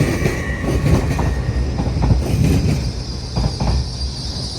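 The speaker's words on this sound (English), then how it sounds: "arriving here now, I believe it's a 14:55 LNER Azuma service from Edinburgh Waverley to London King's Cross" An LNER Azuma from Edinburgh Waverley to London King's Cross pulls into Doncaster station, loud and close, with rumbling wheels, rhythmic clatter over rail joints and a faint squeal.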